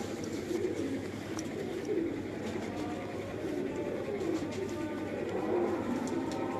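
Pigeons of a large-headed, long-lived fancy breed coo in a low, continuous murmur, with several birds overlapping into a steady, moderately close drone.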